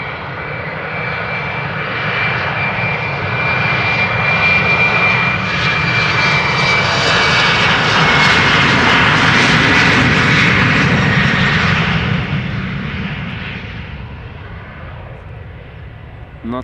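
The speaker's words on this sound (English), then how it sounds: "another Embraer 190, this one from KLM, outbound to Nuremberg" KLM Embraer 190 jet airliner taking off at Amsterdam Schiphol Airport, a loud, roaring engine swell that builds, peaks near the middle and fades as the plane climbs away, with faint talk in the background.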